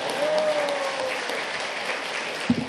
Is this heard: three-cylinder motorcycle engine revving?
no